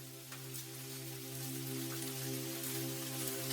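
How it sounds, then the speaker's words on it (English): Rain pattering on umbrella fabric in a steady, dense wash of soft drops, with a low constant hum underneath and no voices. "She listens to the sound of the rain trickling down the fabric of the umbrella."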